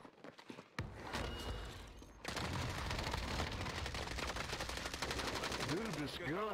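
Rapid automatic gunfire rattles almost nonstop in a Call of Duty match, loud and close, with a short burst, a brief pause, then a long sustained stream of shots and faint player chatter underneath.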